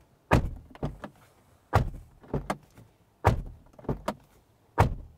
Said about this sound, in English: So what the door sounds like.